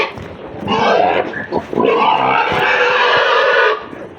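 A pig being bathed with water squeals loudly and shrilly in long, strained bursts, broken by a brief grunting pause, close to the listener with no talk.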